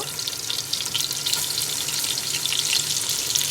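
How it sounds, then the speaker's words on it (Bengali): Chicken pieces fry in hot oil for pulao, a steady close crackling sizzle with no voices. "এইদিকে মুরগির মাংসটাকে একটু ভেজে নিচ্ছি আর ওই দিকে তেলটা গরম হয়ে গেছে পোলাওয়ের জন্য"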